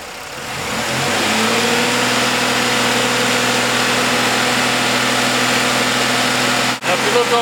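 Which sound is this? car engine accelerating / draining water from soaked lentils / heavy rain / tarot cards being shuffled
car engine accelerating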